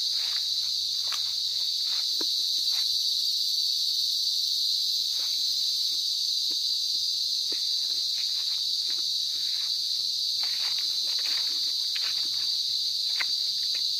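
Insects hum and trill steadily on a farm lot in Magdalena, Laguna, a constant high-pitched chorus with faint scattered rustles and taps beneath it.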